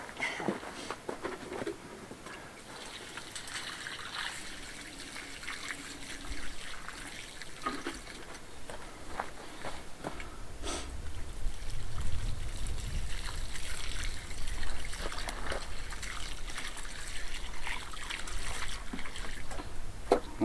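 Water poured from a hose or can onto a freshly set post to water it in, an irregular trickling and pattering that grows fuller and heavier partway through, steady and moderately close with no talking.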